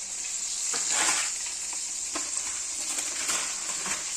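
Black peppercorns fry in a pan, giving a steady bright hiss of sizzling oil with soft crackles and occasional stirring scrapes, close and even throughout.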